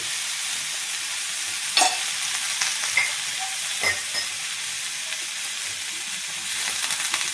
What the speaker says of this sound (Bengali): আমার আদা বাটাটা ভাজা ভাজা হয়ে গেছে